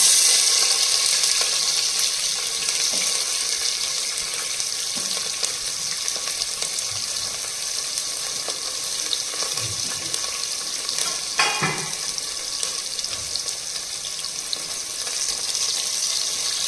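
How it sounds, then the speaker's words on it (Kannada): Onion frying in hot oil for veg pulao, a continuous bright sizzle with occasional scrapes and knocks of stirring, fairly close and steady with no talking. "ಈಗ ಆನಿಯನ್ ಹಾಕ್ತೀನಿ."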